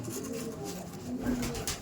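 Kaldom pigeons coo in a breeding loft, several low throaty calls overlapping in a continuous, close murmur.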